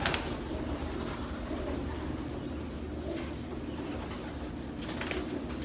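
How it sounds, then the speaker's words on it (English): Pigeons, including a grizzle cock, coo softly and continuously in a loft, with low murmuring calls under a steady hiss and no one talking. "It's a nice pigeon."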